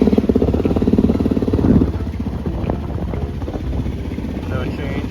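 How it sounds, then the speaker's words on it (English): A motorcycle engine revs close by with a pulsing, throbbing roar that swells early and then settles into a steady, slightly uneven run. "It's revving."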